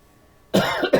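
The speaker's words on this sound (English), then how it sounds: "Okay, I've got a cough." A woman's short, sharp coughs, two close bursts right after a brief quiet stretch.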